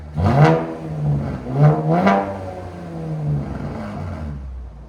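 A 2019 Chevy Camaro RS with a 3.6L V6 and MRT cat-back exhaust revs up close, three quick throttle blips rising and falling, then settles back toward a low idle burble.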